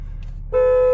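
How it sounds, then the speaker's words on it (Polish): After a brief quiet moment, a loud, steady electronic car alarm tone from an Audi RS5 with a CanLock anti-theft system suddenly starts and holds at full volume. "Łączy się głośny alarm."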